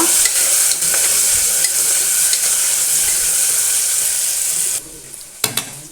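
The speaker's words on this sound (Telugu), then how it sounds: "దీంట్లోనే కట్ చేసి పెట్టిన ఉల్లిపాయలు, పచ్చిమిర్చి వేసేసుకొని ఒకసారి అంతా బాగా మిక్స్ చేసుకోవాలన్నమాట." Onions and green chillies stirred into hot tempering oil, a loud bright hissing sizzle with steady spoon stirring that cuts off near the end, followed by a few sharp clanks.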